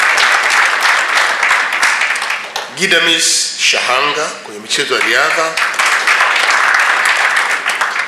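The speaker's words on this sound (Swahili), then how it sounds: "tupige makofi mengi sana kwake" An audience gives loud, sustained applause for athlete Philbert Bayi at a ceremony, with a voice announcing over the clapping in the middle.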